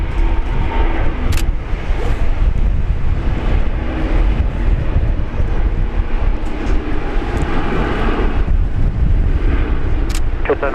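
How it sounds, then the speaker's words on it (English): China Southern airliner rolling on a runway at Brisbane Airport, a loud continuous low engine roar with wind buffeting the microphone and a couple of brief sharp clicks. "So we got China Southern rolling because I just automatically thought it was going to the other runway."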